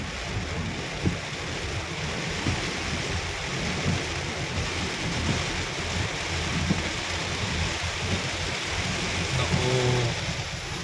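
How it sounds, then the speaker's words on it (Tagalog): Heavy New Year's rain pouring down in a dense, steady roar, close and unbroken throughout, with occasional louder splatters and low rumbles underneath. "ang lakas ng ulan."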